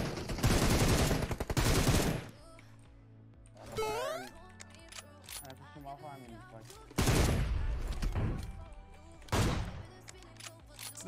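Sniper rifle fire in a shooting video game, loud bursts of gunfire with dense rapid shots at the start and again near the end, mixed with game sound effects and music, with a voice talking over it.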